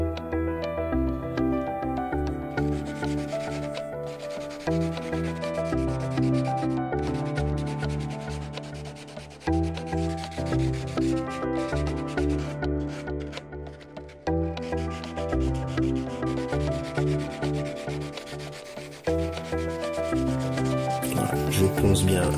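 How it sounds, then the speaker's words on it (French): Repair areas on a foil board are sanded by hand with 120-grit sandpaper, giving steady, close, rhythmic scratchy rubbing strokes that continue throughout with brief pauses. "Ici c'est du grain 120 et je vais poncer les deux zones de manière à retirer l'excédent de fibres"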